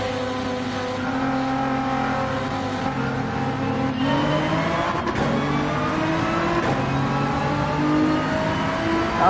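A Nissan GT-R race car engine in Gran Turismo 7 drones loudly and continuously from close up, its pitch rising and dropping through gear changes as it accelerates around the Interlagos circuit.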